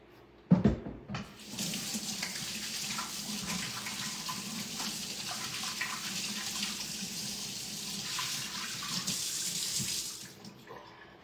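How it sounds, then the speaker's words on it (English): Hands are washed under a running kitchen tap during dinner cooking, with a knock at the start and then a steady, splashing stream of water for about nine seconds before it shuts off, close by and with no speech. "Let me wash my hands."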